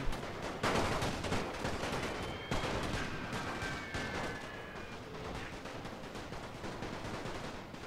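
Gunfire and artillery bombardment in a First World War strategy video game: loud booming impacts open the scene, followed by a dense, continuous crackle of rifle and machine-gun fire with whistling shells, gradually easing in level.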